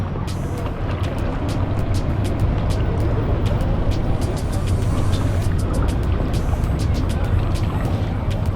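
A truck labors to haul a boat on its trailer up a launch ramp, with a steady, loud engine drone running throughout and the motor straining continuously under load.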